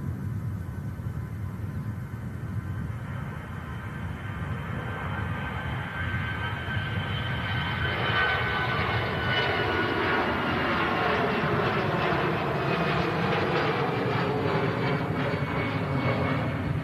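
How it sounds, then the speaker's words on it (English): An Iberia Express airliner departs Manchester Airport for Madrid, its jet engines a continuous roar that swells louder partway through and holds strongly to the end. "TAP Air Portugal, Iberia Express, on the way out to Madrid."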